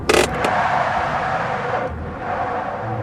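Car driving as a radio drama sound effect, a steady engine and road rumble with a brief sharp burst at the start, loud and close with no voices.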